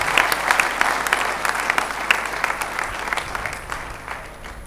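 Loud, sustained applause fills a church hall as a youth-meet congregation claps together after Holy Mass, steady and dense with a few sharper claps poking through.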